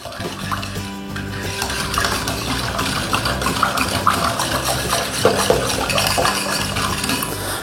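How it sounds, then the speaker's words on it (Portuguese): Ingredients with dried yeast being stirred in a bowl to dissolve, giving a continuous wet swishing with utensil clinks and scrapes against the dish, close and fairly loud with no talk. "Eu vou misturar bem esses ingredientes para o fermento dissolver um pouco"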